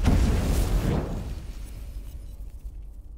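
A firecracker goes off at a home New Year's Eve party, one loud close blast at the start that fades into a rumbling tail and quiet room noise.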